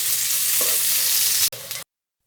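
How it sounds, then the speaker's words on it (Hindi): Finely chopped onions sizzle in hot ghee in a pan, a steady loud broadband hiss of frying with a brief stir near the middle, then an abrupt cut to silence. "पैन में घी अच्छे से गर्म कर लिया है और अब हम इसमें ऐड करेंगे बारीक कटे हुए प्याज।"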